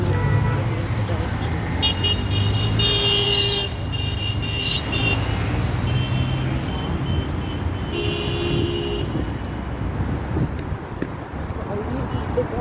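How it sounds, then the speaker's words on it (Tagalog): Busy rush-hour road traffic in Abu Dhabi, a dense continuous rumble of car and truck engines with several car horn toots sounding out, while a person talks over the noise. "Dami sasakyan dito guys."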